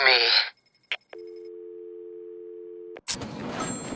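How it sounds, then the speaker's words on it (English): An old-style telephone rings in the Batman: Arkham City video game: a short burst of noise, a click, then a long steady ringing tone lasting about two seconds, cut off by a sharp click, with a noisy rumble following. "Answer my phone and answer it quick, Batman."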